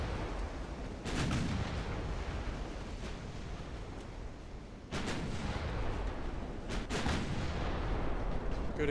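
Naval secondary guns firing in Ultimate Admiral Dreadnoughts, with several deep booming reports spaced a few seconds apart over a steady low rumble of sea and battle noise, heard at a moderate distance.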